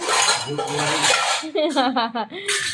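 Dishes, pots and utensils clink and clatter as they are set out, in quick irregular bursts of close metallic ringing, with a voice sounding over part of it.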